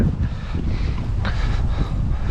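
Gusty wind at Lake Nillahcootie buffets the microphone with steady low rumbling and brief whooshing surges, loud and close, with no one talking.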